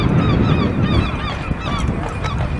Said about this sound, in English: Listening to the seagulls now.